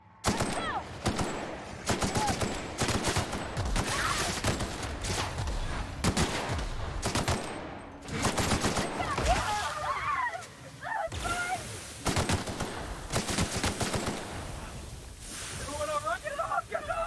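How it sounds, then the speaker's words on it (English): An assault rifle fires in The Outer Worlds in repeated loud bursts of rapid shots, separated by short pauses, with a brief quieter stretch midway before firing resumes. "Let me see what the assault rifle does."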